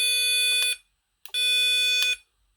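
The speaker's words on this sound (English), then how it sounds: "You can turn the beeper on and off." A Power Probe 4 circuit tester sounds two shrill electronic beeps, the first short and the second longer after a brief gap, close and loud with no talking.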